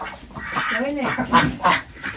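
Backyard ducks quack and honk in short nasal bursts, several calls overlapping at close range, loud and a little agitated as they wait to be fed greens.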